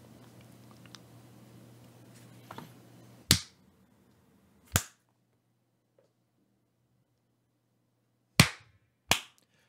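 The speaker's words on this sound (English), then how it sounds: "Let me know when to clap." Sharp hand claps used to sync a recording during an actual-play tabletop session: two loud, crisp claps, then a pause of a few seconds and two more, each standing alone in near silence after some faint background noise.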